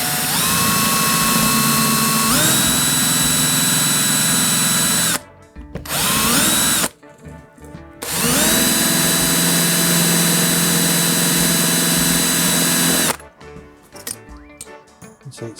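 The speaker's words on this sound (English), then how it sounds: "get a drill and just drill this cable out" A power drill whines loudly in sustained bursts, drilling out a cable in a dolls house light fitting, its pitch shifting as it bites into material, with short pauses and clinks between runs.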